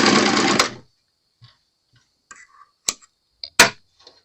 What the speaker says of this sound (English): I'm going to serge along this edge.